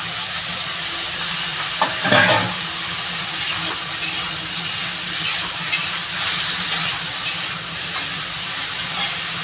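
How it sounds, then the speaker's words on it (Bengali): Elephant foot yam and taro corms sauté in a pan for a prawn curry, giving a loud, steady hissing sizzle with a brief clatter of stirring or tipping in early on. "এই ওলটা আর কচুর মুখিটা ঢেলে দেবো এর সঙ্গে কষিয়ে"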